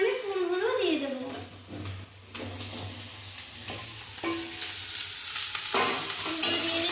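Flowers dropped into hot oil and stirred in a pan, a bright sizzle with scraping stirs and clanks, while a voice talks over the frying at first.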